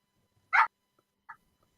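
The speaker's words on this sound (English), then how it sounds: "Somebody's barking" A dog barks once sharply and nearby, followed by a softer, shorter yip about a second later, against near silence.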